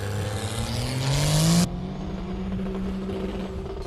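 A diesel race truck in a drag race roars at full throttle with a rising engine pitch that cuts off abruptly, followed by a lower steady engine drone, loud and close.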